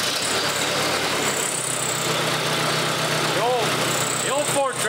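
An old Ford tractor engine runs steadily with a dense, rumbling drone throughout, while people talk over it.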